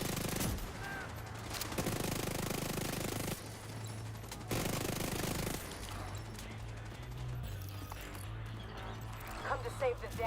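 Sustained automatic weapon fire rattles in long bursts in the shooter The Division 2, steady and fairly close, with someone talking over the shooting.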